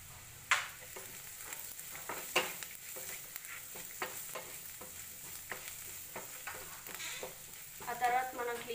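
Onions and garlic frying brown in a pan for banana flower curry, with a pinch of turmeric going in; a soft, continuous sizzle is broken by repeated light stirring scrapes and taps, heard close up.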